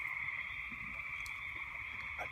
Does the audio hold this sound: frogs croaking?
yes